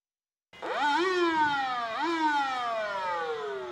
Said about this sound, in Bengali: মাঝে মধ্যেই নীরবতার প্রহর ভাঙে অ্যাম্বুলেন্সের সাইরেন